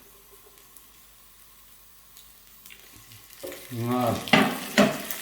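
Sliced potatoes in a pan start to sizzle in oil after a quiet stretch, the frying swelling loud with stirring scrapes, while a voice speaks briefly.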